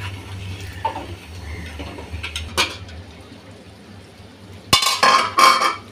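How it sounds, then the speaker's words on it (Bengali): Beef with chickpea lentils and bottle gourd being stirred in masala in a pot, soft simmering under a few scattered utensil scrapes and clinks, with a louder burst of stirring against the pot near the end. "এইভাবে আমি ভালো করে মাংসের সাথে ডাল একসাথে আধা ঘন্টা পর্যন্ত এভাবে কষিয়ে নেব"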